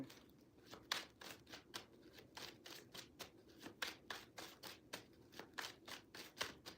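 Tarot cards being riffled and shuffled repeatedly, a rhythmic series of soft papery bursts, close but quiet, with no voices.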